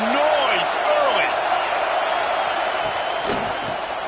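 A football stadium crowd roars and makes noise, a broad, steady wash of cheering heard over commentary from a game announcer.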